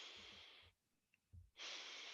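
A person takes two strong sniffs of decongestant oil, close and breathy, separated by a brief quiet pause with a soft snort in between.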